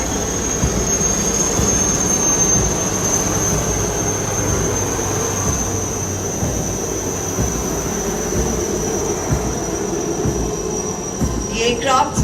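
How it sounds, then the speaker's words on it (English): An Army Aviation reconnaissance observation aircraft flies past overhead during a passing-out parade at the Officers Training Academy Gaya, giving a loud, continuous roaring rumble with a thin steady whine that holds throughout. "The aircraft would fly past over the passing out course"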